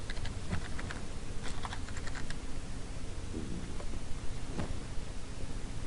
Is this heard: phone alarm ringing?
no